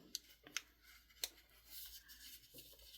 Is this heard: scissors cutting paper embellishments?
yes